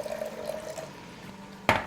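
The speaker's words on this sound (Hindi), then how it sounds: "सबसे पहले इसमें हम डाल देंगे 4 टेबलस्पून पानी" Four tablespoons of water poured into a mixer grinder jar while preparing Shahi Mutton Korma in a kitchen: a low background hum ends in a sudden, close splash of liquid hitting the jar near the end.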